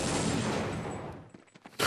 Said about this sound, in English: Lord grabbing a frag as well with the Galil onto Conte.